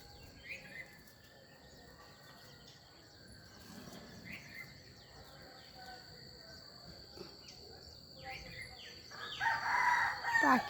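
Rooster crowing on a morning in a rural setting, one crow rising loud and close near the end over steady insect chirring, distant birdsong and a cuckoo calling.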